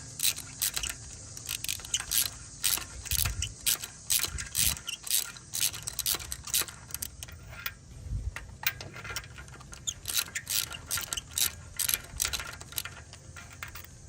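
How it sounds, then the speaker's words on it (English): A ratchet turning a spark plug socket to remove a spark plug: rapid clicking bursts in uneven runs with scraping metal, close and fairly clear, no talk. "I'm using a socket specifically designed for spark plugs"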